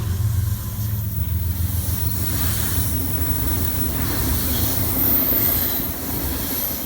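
A long BNSF freight train with a Kansas City Southern locomotive at the rear rumbles past steadily and close at Carkeek Park, Seattle, with a deep low roar, rattling wagons and faint high squeals of wheels on rail.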